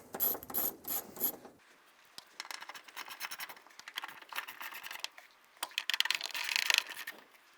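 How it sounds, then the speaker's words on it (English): A ratchet turns an 8mm socket to back out the lock ring screws on a 2003-2007 Infiniti G35 fuel pump assembly. It gives bursts of close, rapid clicking with scraping and metallic rubbing in between. "Using an 8mm socket, we're going to remove the screws out of the lock ring."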